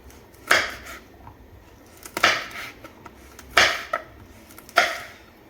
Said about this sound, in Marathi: इथे बघा आता मिरचीचे आपल्याला बारीक असे तुकडे करून घ्यायचे आहेत